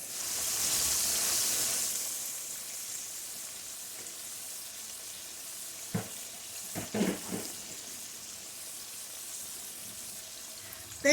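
Boneless country style ribs fry in a pan with a steady, moderate sizzle, close by, broken by a few soft clatters and stirring knocks near the middle.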